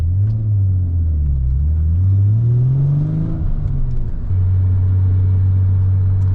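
Twin-turbo Nissan 300ZX engine droning steadily at close range, its low tone rising and falling with revs before settling into a constant hum, with a faint ticking exhaust leak. No one speaks.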